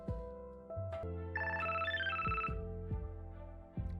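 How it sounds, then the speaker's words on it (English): A cell phone text notification chime in the Overwatch 2 video game, a bright rising run of tones lasting about a second, heard over a steady game music bed with low rhythmic thumps. "It's your optimistic near future cell phone. Cupid is texting you."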